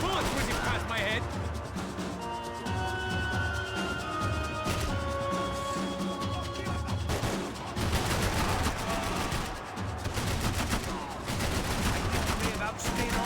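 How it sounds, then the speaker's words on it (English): Gunfire and whizzing bullets in Max Payne 3, with rapid bursts and sharp cracks crowding a dense, loud combat mix for the whole stretch while in-game voices shout over the shooting. "Bullets whizzing past my head!"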